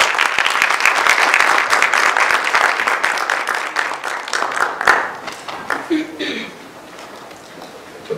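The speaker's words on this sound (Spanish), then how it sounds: "vamos a recibir con un fuerte aplauso" Audience applause at a conference on fatty acids and diet, a loud dense burst of clapping that fades over several seconds as a presenter's voice begins.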